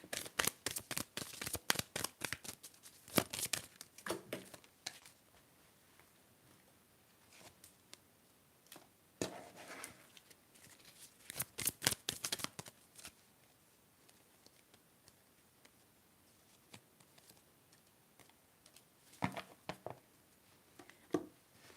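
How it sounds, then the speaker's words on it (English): Tarot cards shuffled and drawn from a deck in a quiet ASMR setting, with close crisp riffling bursts and soft card slaps separated by near silence. "Let's get 3 cards from this deck."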